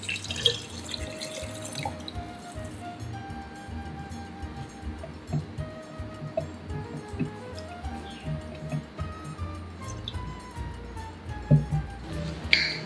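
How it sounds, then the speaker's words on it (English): Water is poured into a pitcher holding melon syrup and stirred in to dissolve it for an Es Kuwut drink, making a steady close trickle and splash with small clinks throughout. "Then pour 600 milliliters water and stir it to dissolve."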